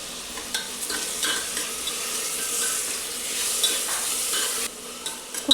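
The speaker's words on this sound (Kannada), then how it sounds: "ಫ್ರೈ ಇದೆ, ಟೊಮೆಟೊ ಸೇರ್ಕೊತಿದ್ದೀನಿ" Chopped tomato, salted, sizzles and fries in a pan while a spoon stirs it in scraping bursts, close and alone with no talk.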